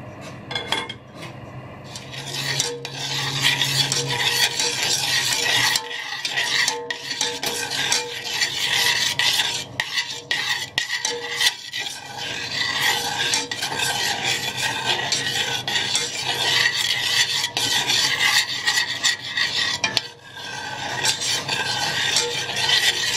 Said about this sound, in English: Now it is stirred well.